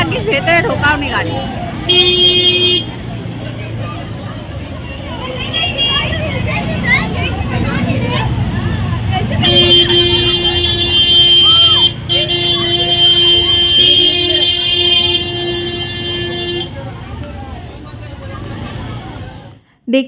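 Dense festival-night road traffic with crowds, several car and bus horns honking in long blasts over continuous engine rumble and chatter, with a person talking close by.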